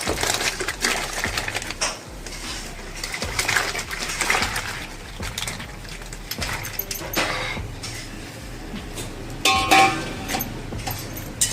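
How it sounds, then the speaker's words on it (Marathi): Raw potato chips clatter and splash into a pot of boiling water, a steady bubbling with scattered clinks and rustling handling sounds. "पाणी उकळले. आता आपण हे चिप्स टाकून घेऊया."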